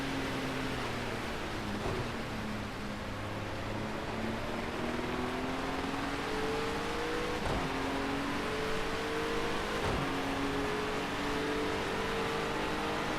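A GT racing car's engine in a racing video game drones steadily at high revs, with slow pitch rises and dips through gear changes, loud and continuous, with a broad whooshing rush underneath.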